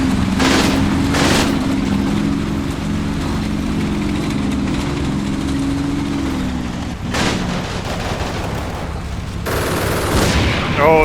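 Flak guns fire in the World War II strategy game Combat Mission Final Blitzkrieg, bursts of rapid gunfire and blasts over a constant engine rumble, loud and close.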